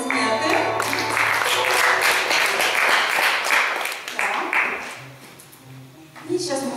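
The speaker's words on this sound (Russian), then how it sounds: "Аплодисменты." Applause from an audience after a round ends early in a staged competition, loud at first and then fading, with a voice speaking over it near the end.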